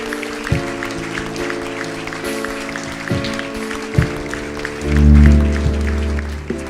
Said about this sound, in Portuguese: E toda a Tua igreja Te aplaude